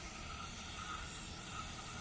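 A steady, close hiss of cleaner sprayed into the valve area of a 20 hp Kohler Courage engine, continuous for a couple of seconds with no talk.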